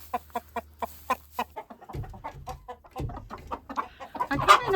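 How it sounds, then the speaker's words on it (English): Backyard chickens clucking close by, a string of short rhythmic clucks at first, then overlapping busier clucking and squawks from several birds toward the end, with no talking. "taking care of our chickens 2 to 3 times a day"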